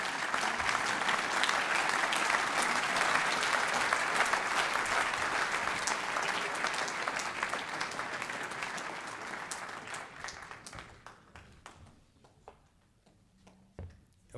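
A large crowd at a French pension reform rally applauds in a dense, sustained burst of clapping that thins out and fades over the final few seconds, with a few scattered claps lingering at the end.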